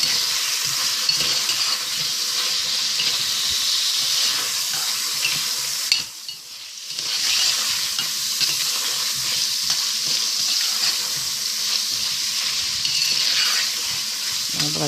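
Onion, chili pepper and tomato paste fry in a pan with a steady, loud hiss and crackle, briefly dropping away mid-way as the mixture is stirred, then sizzling on close by.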